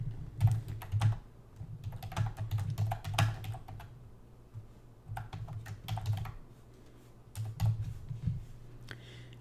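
Keys clatter on a computer keyboard as an audience name is typed in, coming in irregular bursts of quick clicks with short pauses between them, close and moderately loud with no talking.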